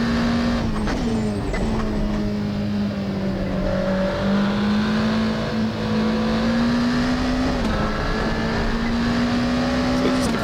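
A race car in a racing video game mod takes a double right-hand corner and further bends, its engine holding a steady droning pitch with small throttle changes, loud and continuous under a faint voice.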